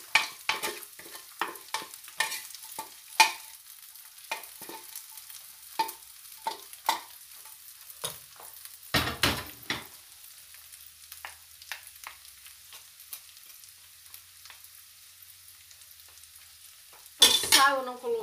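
Cooked beans tipped into a pan and stirred, a string of sharp spoon clicks and scrapes against the pan over a soft background, then louder clattering near the end.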